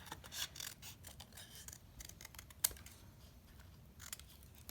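Scissors cut an animal shape out of a recycled cracker box, producing faint, close snips and papery crunches in an uneven rhythm.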